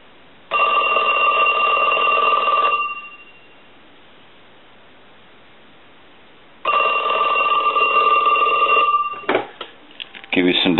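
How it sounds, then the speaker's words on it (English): A Snoopy and Woodstock novelty telephone under repair rings its bell in two loud, steady bursts of about two seconds each, separated by a quiet pause, with brief handling noise at the end. "We'll go ahead and ring Snoopy now."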